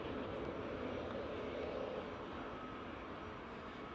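WestJet airliner taxiing in to stand at Edinburgh Airport, a steady broad jet engine roar held at even loudness throughout, fairly near and alone with no voices.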